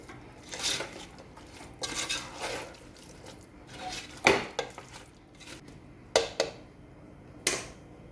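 Chicken madhooth being mixed in a pot, with occasional scraping and clanking of a spoon against the pot and a few sharper knocks spaced several seconds apart, fairly quiet and with no talk.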